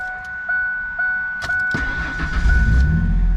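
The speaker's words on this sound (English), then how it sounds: "I want you guys to hear the truck." A Ford F150 pickup with a V6 starts up: a few beeps and clicks, then the starter cranks and the engine catches and roars into a loud, rumbling idle.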